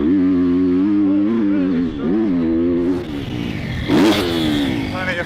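A Triumph TF250 X motorcycle accelerates hard in third gear through corners, its engine note rising and falling in loud, close revs with a brief louder burst near the end.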